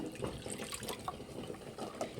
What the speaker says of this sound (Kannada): ಇಷ್ಟು ನಾನು ಸ್ವಲ್ಪ ನೀರು ಹಾಕ್ಕೊಳ್ಳೋಣ